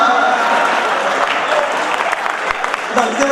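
A crowd at a Hindu New Year gathering applauds in a dense, loud, continuous wash, with some voices mixed into the clapping.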